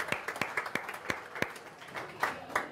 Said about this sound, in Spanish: Un aplauso para Fol.cl.